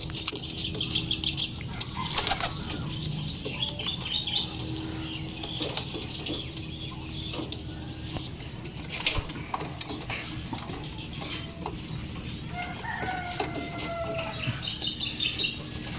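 Pigeons drinking a homemade moringa, oregano and garlic juice flutter and flap their wings in quiet, scattered bursts, with faint clucking and cooing among the birds.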